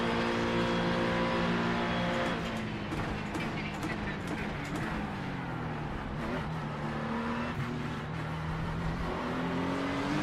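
Acura NSX GT3 race car engine in the iRacing sim at Spa, droning continuously with rising and falling revs through gear changes, loud and steady throughout.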